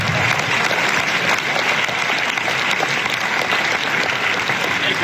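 A large audience at a fishing industry trade-show award ceremony keeps up steady, loud applause from start to finish, dense and continuous with no talking over it.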